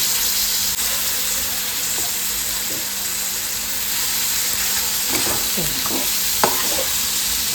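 Spiced eggplant and potato curry with turmeric masala is stirred in a pan, giving a steady close sizzle with soft scraping strokes and a few clinks near the end, without speech.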